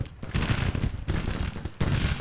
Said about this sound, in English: At least 2 batteries are firing.